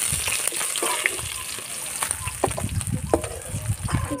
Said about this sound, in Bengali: বাকি মাছটাও ভেজে নেব।